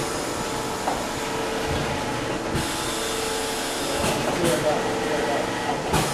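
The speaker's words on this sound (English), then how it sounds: "Now currently, the whole machine is under automatic running." Automatic screen printer for large flat workpieces running at steady hum and whir, with periodic mechanical clunks and air releases, under someone speaking.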